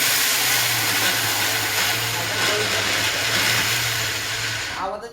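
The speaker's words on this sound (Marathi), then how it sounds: "आवाजच चेंज झाला मिक्सरचा." An electric kitchen mixer grinds sesame seeds and jaggery for ladoos, a loud, continuous close-up whirring roar that holds steady for about five seconds before winding down at the end.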